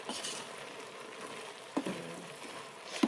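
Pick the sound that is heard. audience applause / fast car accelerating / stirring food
stirring food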